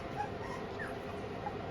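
A six-week-old Pomeranian puppy whimpers softly and steadily, with faint high whines over a low, constant background murmur.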